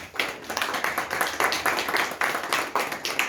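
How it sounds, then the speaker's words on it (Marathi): Schoolchildren clap for a wall poster at a village school Women's Day event, a rhythmic group clapping in steady, evenly spaced bursts, moderately close, with no voices over it. "सर्वांनी टाळ्या वाजून यांचं स्वागत करायचं"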